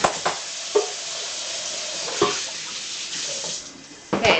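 Water from a sink tap sprays out a blender jar, a steady hissing rush broken by several sharp splashing bursts as the stream hits and shifts inside the jar.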